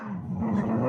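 A dog gives a short, low, throaty growl that rises slightly in a vocal, grumbling way, close and fairly loud, as if answering back.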